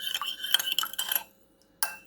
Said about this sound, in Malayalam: ഇതൊരു കുറച്ച് സമയം നമുക്ക് ഒന്ന് നന്നായിട്ട് ഇളക്കി ഒന്ന് അടച്ചു വെക്കാം.